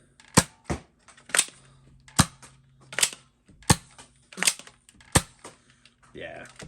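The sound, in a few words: Nerf Elite 2.0 Prospector blaster firing darts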